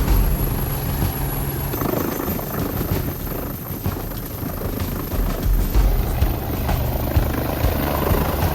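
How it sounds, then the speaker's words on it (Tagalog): An AW109 naval helicopter runs close by, its rotors and engine producing a loud, continuous thudding roar with steady rumble throughout and no talking. "sasakay siya dito sa AW109 NH434 naval helicopter"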